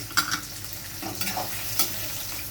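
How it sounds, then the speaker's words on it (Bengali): Tomato and chopped capsicum fry in a pan with a continuous moderate sizzle, broken by a few brief scraping stirs. "এবার আমি দিয়ে দেব কুচানো ক্যাপসিকাম।"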